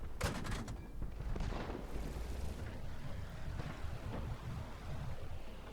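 Tank cannon fire in the World of Tanks video game, a loud boom at the start followed by a rumbling, windy wash of engine and ambient noise that slowly fades, with no voices.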